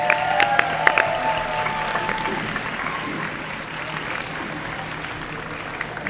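Applause from a crowd at a junior sport stacking championship as champions receive trophies on the podium, a steady patter of many hands clapping throughout, with a few whistles and raised voices early on.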